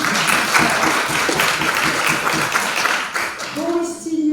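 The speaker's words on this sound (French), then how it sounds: "on l'applaudit." An audience at an international law conference welcome session applauds, a dense sustained clapping that fills the room before fading as a voice comes in at the end.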